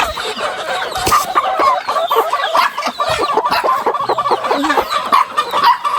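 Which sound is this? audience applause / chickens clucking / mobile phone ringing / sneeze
chickens clucking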